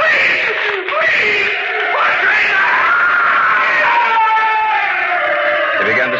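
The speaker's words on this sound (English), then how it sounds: "He began to scream." Close, loud screams from a man in an old-time radio drama of The Cask of Amontillado, several long anguished cries that rise and fall with a strained, wailing pitch.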